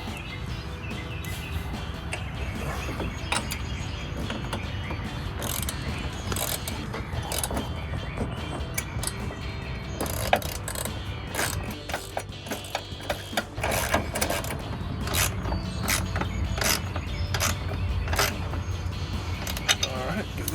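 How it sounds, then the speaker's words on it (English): Ratchet wrench tightening the mounting bolts of RedRock 3-inch round side step bars on a Jeep Wrangler, giving steady mechanical clicking and creaking that runs throughout, fairly close, with scattered sharper clicks. "Take our ratchet."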